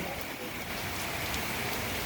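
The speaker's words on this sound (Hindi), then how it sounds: "अभी भी जोरदार पानी पड़ रहा है लेकिन लोग आ रहे।" Heavy rain pouring down outdoors at a gathering, a dense continuous hiss of falling water that stays loud and unbroken throughout.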